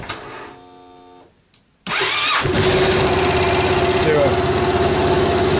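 A Yamaha Grand Majesty 250-400 scooter engine fires up after a spark plug change, catches after a brief silence and settles into a steady loud idle. Someone says a word near the start.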